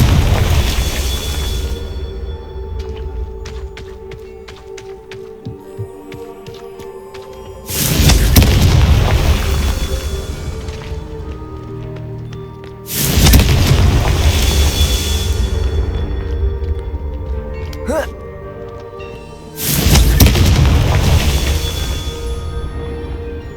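Confringo blasting spells in the video game Hogwarts Legacy set off four heavy, booming explosions spaced several seconds apart, each a loud deep burst fading into a long rumbling tail.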